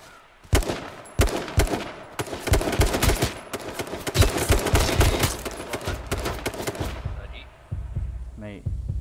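Gunfire in the video game H1Z1, with rapid loud bursts of shots in quick succession that fade into quieter rumbling after several seconds. Voices are faintly audible.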